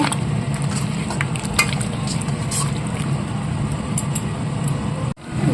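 Chicken is stirred with Kashmiri chili powder in a frying pan, a steady close sizzle with continuous scraping and stirring that lasts the whole stretch and is briefly interrupted near the end.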